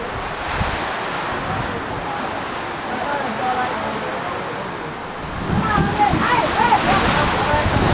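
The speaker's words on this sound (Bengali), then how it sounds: "বৃষ্টি হচ্ছে।" Heavy rain pours over the Shitalakshya river in gusty wind, a dense, steady roar that swells louder in the last few seconds, with a faint voice briefly audible.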